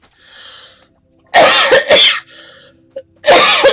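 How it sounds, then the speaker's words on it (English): A man coughs in several loud, close bursts indoors, with a quieter stretch of game sound running between them. "Pardon me, I had to cough there."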